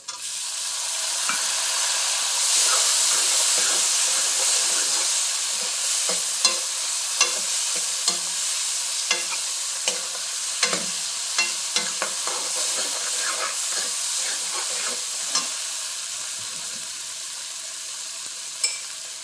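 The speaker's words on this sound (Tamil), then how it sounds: "வெங்காயம் நல்லா வதங்கட்டும் இதை பாருங்க வெங்காயம் வதங்கிச்சு" Onions fry in a pan for a brinjal and peanut kara kuzhambu with a constant loud sizzle, broken by regular clicks and light scrapes as they are stirred.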